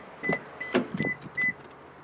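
Remote keyless entry button on a 2011 Toyota RAV4 key pressed repeatedly, giving four short, close, fairly quiet chirps with soft clunks, spaced about a third of a second apart, with no talking.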